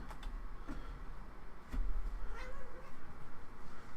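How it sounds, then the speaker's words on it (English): A house cat meows a few times close by, short plaintive calls over a steady low background hum, with no one talking. "Go away, cat."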